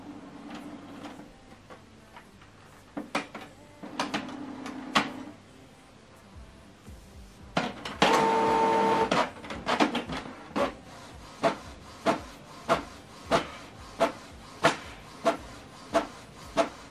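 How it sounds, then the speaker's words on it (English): A Canon printer printing a document page close by, with whirring feed motors, a louder mechanical burst midway, and then a regular series of rhythmic clacks as the page moves through. "Now this document is going to print page 2."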